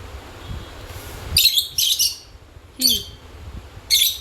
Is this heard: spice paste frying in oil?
no